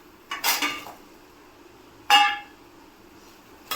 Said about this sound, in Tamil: சோயா கொஞ்சம் போட்டுடலாங்க